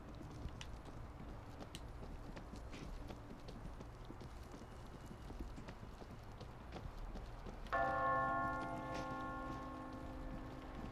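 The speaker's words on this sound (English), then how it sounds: "Which zombie's ringing the bell?" A bell sounds once in the zombie shooter game World War Z. The single resonant strike arrives late and rings on over a faint, busy wash of game noise.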